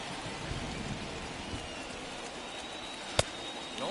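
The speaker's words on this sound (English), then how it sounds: "It's raining cats and dogs out there." Steady rain hisses on the field in a baseball video game, a soft, even wash of falling drops with a single sharp crack partway through, quiet and unbroken with no talk.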